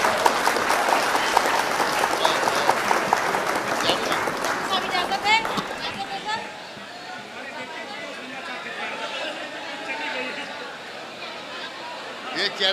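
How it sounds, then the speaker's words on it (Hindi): A crowd at an All India Mushaira poetry gathering in Meerut applauds loudly for about six seconds, then the clapping thins into scattered claps and murmuring chatter. "तालियां बजती रहनी चाहिए"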